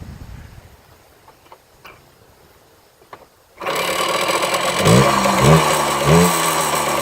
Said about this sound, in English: and then we'll start the bike up.